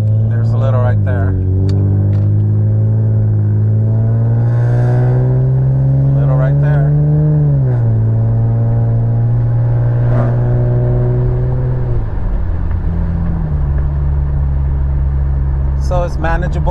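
An Infiniti G37 sedan fitted with a SOHO 3-inch single exit exhaust and a CWorks resonator drives along, heard from inside with the windows closed: a loud, steady low drone that swells and dips with engine speed.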